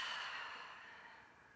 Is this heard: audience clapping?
no